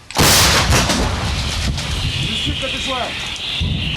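A heavy boom of artillery fire bursts out at the start, followed by a rumbling, noisy outdoor wash with faint chirping sounds, near Bakhmut.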